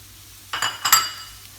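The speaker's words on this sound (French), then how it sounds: "On va mélanger le tout ici, bien mélanger." Shawarma spice and turmeric filling being mixed in a bowl: two quick scraping, clinking strokes of a utensil against the bowl, close and brief, over a quiet background.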